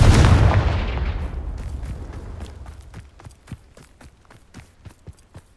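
A fire spell blast in Hogwarts Legacy erupts in one loud explosive boom that fades over a couple of seconds, then gives way to a run of sharp, evenly spaced clicks and taps.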